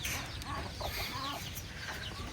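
Village chickens cluck softly and intermittently at close range, a few short clucks scattered over a quiet farmyard background.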